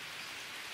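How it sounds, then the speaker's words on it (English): Steady rain falling in the jungle survival game Green Hell, a dense, even hiss of drops hitting surfaces that holds constant through the short stretch, with no voices over it. "It's starting to rain."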